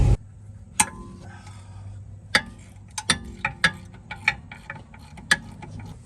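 A ratchet works on the brake caliper bolts of a VW Jetta, giving sharp, irregular clicks and metallic ticks at close range with quiet pauses between them.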